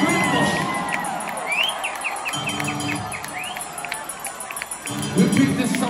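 Stadium crowd at a concert, a loud, broad roar of cheering and whistles from a large audience, rising and falling across the stretch, with a voice speaking over the noise at moments.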